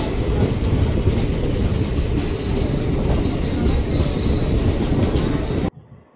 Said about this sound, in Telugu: మనోడు ఒంటిమిట్ట స్టేషన్ నుంచి అయితే స్టార్ట్ అయిపోయాడు